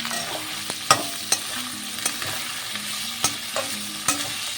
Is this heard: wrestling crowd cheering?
no